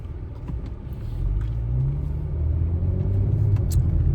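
A car driving to Dog Beach on Honeymoon Island, heard from inside as a steady low road rumble with gentle engine swells, no talking.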